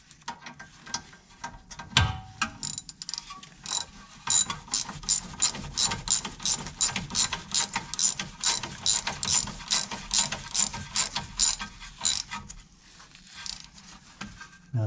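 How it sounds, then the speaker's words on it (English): A hand ratchet tightening the outer tie rod end on a Hyundai Accent, a rapid run of crisp clicking strokes in steady rhythm, close and clear, with no talk. "On my ratchet."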